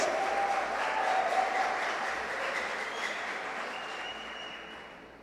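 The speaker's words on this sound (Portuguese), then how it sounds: "Pode aplaudir, é o momento que você aplaude" A church congregation applauding during a Portuguese-language sermon, a broad, steady wash of many hands clapping that slowly fades, with a faint voice and a thin tone faintly audible under it.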